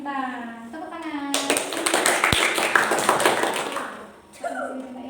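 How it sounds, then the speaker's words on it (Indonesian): A classroom of children bursts into clapping, a dense burst of many hands lasting about three seconds, with an adult voice speaking before and after. "Tepuk tangan."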